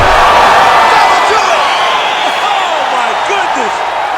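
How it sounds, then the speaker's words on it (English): A loud, steady roar of an arena crowd cheering in the EA Sports UFC 5 game as a fight between Diego Sanchez and Clay Guida ends, a continuous wash of noise throughout. "crowd loving it."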